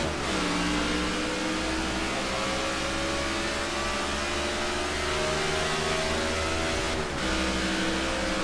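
Stock cars roar off at the green flag at Texas Motor Speedway in the NASCAR '15 video game, a loud layered engine drone climbing steadily in pitch, briefly dipping with a gear shift near the end before rising again, no voices.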